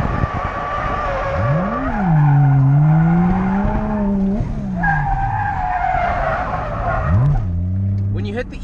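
A car slides under e-brake during touge driving at Ebisu Circuit, tires squealing loudly in long drawn-out skids with the engine revving between them, and people talking inside the car.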